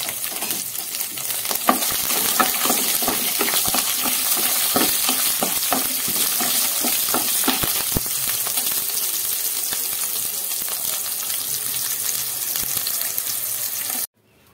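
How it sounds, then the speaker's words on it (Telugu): Onion, coriander seeds, cumin, tamarind and garlic crackle and sizzle steadily in an oiled pan, with frequent stirring scrapes and clicks close by throughout, no voices. "ఇప్పుడు ఇందులోనే ధనియాలు, జీలకర్ర, చింతపండు, వెల్లుల్లి వేసి వేయించుకోండి."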